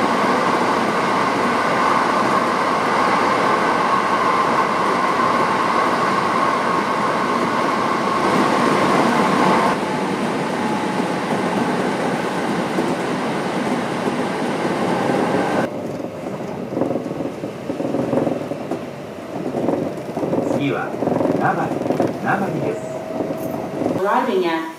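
A Kintetsu express train bound for Osaka Uehommachi rumbles along steadily with a broad, loud roar, then quiets into a softer hum with faint clattering and a thin whine near the end.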